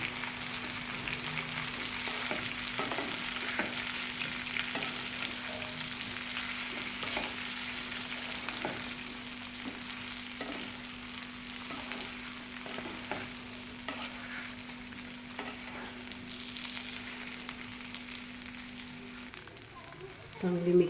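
Bhindi masala fries in a pan while being stirred, with a soft, steady sizzle and faint scraping strokes of the spoon repeating at a gentle pace, quiet and close. A low hum runs underneath most of it.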